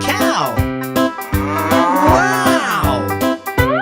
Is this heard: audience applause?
no